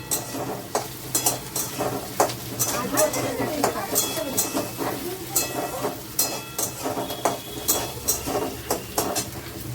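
Potatoes frying in a pan, a continuous sizzle with rhythmic stirring scrapes and light metal clinks, close by, while someone talks over it.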